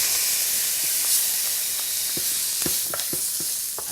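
Onions, toasted spices and freshly added tomatoes sizzle steadily in a hot pan, a loud continuous frying hiss broken by scattered pops and the scrape of stirring.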